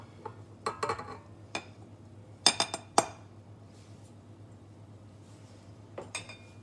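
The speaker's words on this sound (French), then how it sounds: "Je mélange le tout jusqu'à obtention d'une pâte." Egg and ground cashew powder are mixed into a dough in a bowl for Christmas bredele, with scattered clinks and taps of a utensil against the bowl over a quiet steady hum.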